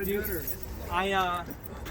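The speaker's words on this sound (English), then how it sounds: "I got the keys for this one." Keys jangle with light metallic clinks beneath a person talking nearby, brief and fairly quiet.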